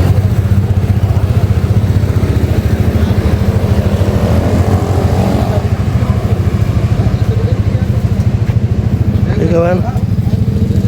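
Motorcycle engines rumble and idle loudly at a motorbike parking lot by the town square in Bandung, a constant throbbing drone close by, with someone speaking briefly over it.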